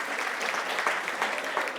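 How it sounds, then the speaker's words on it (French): Audience applause at a French talk-show event, a steady burst of clapping from a live crowd lasting the whole short stretch with no voices on top. "Vous pouvez applaudir Mickaël, s'il vous plaît."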